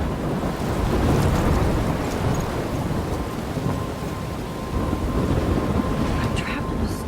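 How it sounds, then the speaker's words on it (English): Heavy rain pours steadily with low rolling thunder rumbling throughout a stormy scene in the video game Life is Strange, loud and continuous with no voices. "I'm trapped in a storm?"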